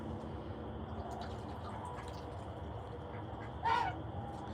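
Ducks, geese and other poultry roosting in barn rafters give a single brief honking quack toward the end, over a steady low rumbling background, with no talk.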